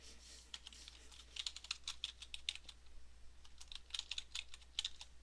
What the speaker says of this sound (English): Now I typed out the word street.